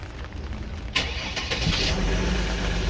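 A cold Mercedes van engine cranks and catches, then settles into a steady idle, loud and close, with no talk over it.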